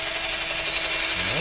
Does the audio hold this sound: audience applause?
no